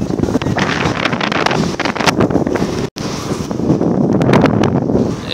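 Heavy wind buffets the microphone during a motorbike ride, a loud continuous rush with gusty surges and a brief dropout midway, with no voices.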